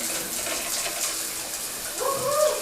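Hot water runs from a shower at full pressure, a steady broad hiss of spray that continues throughout the short stretch, fairly close and alone.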